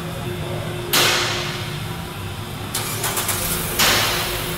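A car's engine cranks and catches right after an oil change, settling into an idle, with revs rising again twice, moderately loud and close.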